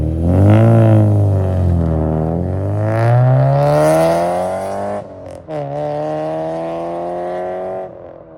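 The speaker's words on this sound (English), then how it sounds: "We got Ben and Jade rolling off" A classic American car with a V16 engine pulls away at a car and bike meet, its engine note rising and shifting as it revs and rolls off, loud and close with no talk over it.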